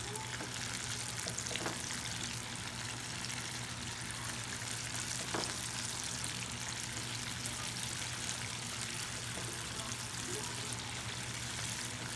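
Rabbit pieces sizzle and crackle steadily as they deep fry in hot oil, a continuous dense fry with occasional pops, close by and undisturbed by speech.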